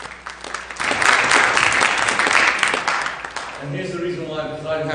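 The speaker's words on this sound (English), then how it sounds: "So let's give the ladies a round of applause." A church congregation applauds the women who read scripture at a service, a burst of clapping from many hands that builds and fades over a few seconds before a voice speaks as it ends.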